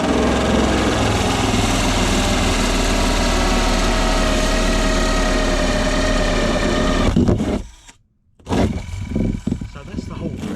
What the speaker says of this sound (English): let's drill through there